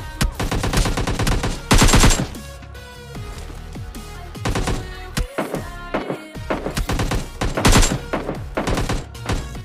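Rapid bursts of automatic gunfire from PUBG Lite, loud and close, firing in several clusters with short pauses between them and no talking.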